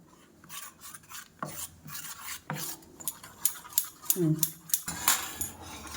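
Cooked rice being stirred and mixed with hot Amul milk, with a spoon clinking and scraping against the pot in repeated strokes, close and moderately loud.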